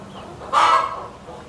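A single loud, drawn-out squawk from a chicken among a backyard flock of Rhode Island Reds, hybrids and a Plymouth Rock breaks a quiet background close by.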